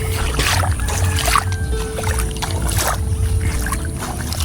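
Small wooden fishing boat (bangka) on the water in a Philippine coastal village, with a steady low engine drone and water wash holding constant, fairly close, with no talk.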